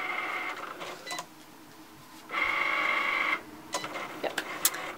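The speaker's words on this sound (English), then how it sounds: "The feather is printing" A new Canon inkjet printer prints a feather design in two short mechanical bursts of whirring print-head travel, separated by quieter pauses and light clicks, close by.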